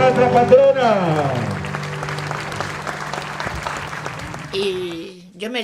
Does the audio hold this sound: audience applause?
yes